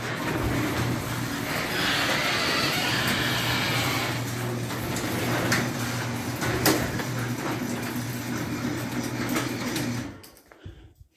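A Sears garage door opener runs near and steady, a continuous motorized hum and whir with a faint rattle, lifting a Wayne Dalton door in cold outdoor air before stopping abruptly near the end.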